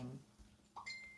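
A phone notification dings once, a short faint chime near the end of an otherwise quiet moment.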